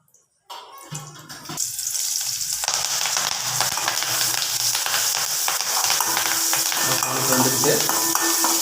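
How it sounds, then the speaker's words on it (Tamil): Mustard seeds and curry leaves tempered in hot frying oil for a home-cooked chickpea gravy: after a brief quiet moment, a loud, continuous sizzle bursts up close and holds steady with faint crackles. "இப்போ தாளிக்கிறதுக்கு அளவாக மட்டும் எண்ணெய் ஊற்றிக்கிங்க"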